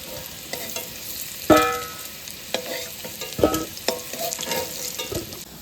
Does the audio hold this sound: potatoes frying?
yes